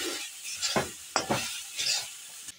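Shredded cabbage gets stirred in a frying pan, with a few distinct scraping spatula strokes over a faint background sizzle.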